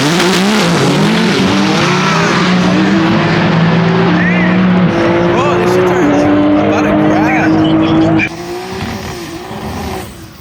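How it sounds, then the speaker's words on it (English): Nissan GT-R race car at the TX2K drag racing event, its engine screaming loudly and close with rising and falling revs and tire squeal, then cutting to a quieter roar; voices talk over it. "Bro, I've never heard a GTR doing that."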